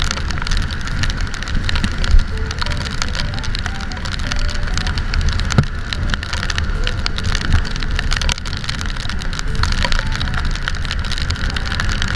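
Steady, heavy rain pattering densely on a surface in Baguio City, Philippines, constant and close throughout.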